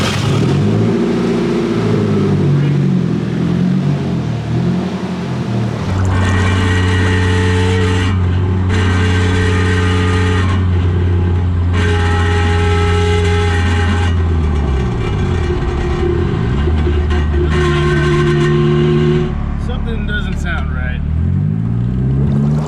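A Nissan S13 restomod with a freshly fitted transmission drives on its first test run, its engine droning and revving steadily through gear changes, loud and close throughout, with some voice faintly underneath.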